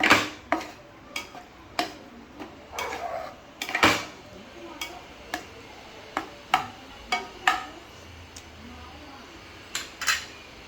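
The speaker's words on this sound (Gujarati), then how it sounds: "હવે જ્યાં સુધી ચીકુનો એકદમ માવો ના બની જાય ત્યાં સુધી આપણે એને હલાવતા રહીશું." A spoon stirs chikoo halwa cooking with ghee and creamy milk in a pan, scraping and clinking against the metal in irregular knocks roughly every second, close and clear with no talking.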